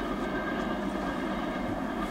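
A westbound CSX freight train made up of hopper cars rolls past, giving a steady, continuous rumble and rolling roar of wheels and cars at moderate loudness with no talk over it.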